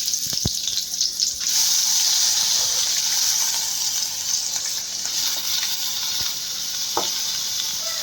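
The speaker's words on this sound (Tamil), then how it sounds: "இதில் உள்ள ஈரப்பதம் போகணும், அது வரைக்கும் கொஞ்சம் ஹை ஃப்ளேம்லேயே வச்சு வதக்கிப்போம்." Chopped vegetables sautéing in ghee over a high flame for a bread sandwich filling, a loud, dense, steady sizzle with a few brief clicks of stirring at the start and end.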